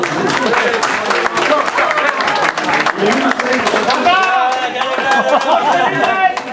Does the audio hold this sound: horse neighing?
no